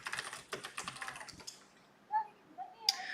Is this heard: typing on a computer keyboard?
yes